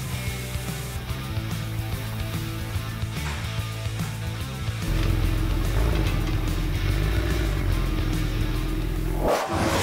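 Premium supercar engine idling and revving as the car is brought in, a steady low rumble that rises into a louder, deeper roar partway through, then briefly surges before cutting off.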